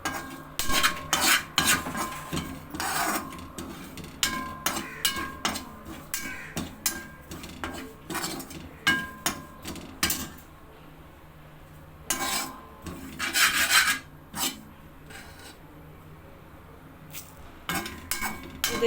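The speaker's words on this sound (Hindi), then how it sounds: "ऐसे खाली बर्तन में इसको थोड़ा सा रोस्ट करेंगे" Spice masala being dry-roasted in an empty pan, with a utensil repeatedly stirring and scraping against the metal in irregular bursts of clinks and rubs, close and fairly loud, pausing briefly before resuming.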